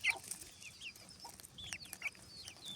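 Young chickens peck at corn, letting out scattered soft clucks and high chirps at irregular intervals, with faint scratching and small movements in between.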